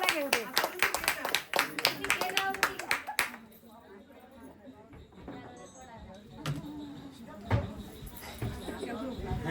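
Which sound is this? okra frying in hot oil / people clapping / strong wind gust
people clapping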